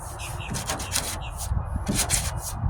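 Coarse 40 grit sandpaper rubbed by hand over Bondo body filler on a rusted 1998 Ford Ranger tailgate, rapid close scratchy strokes in a quick repeating rhythm.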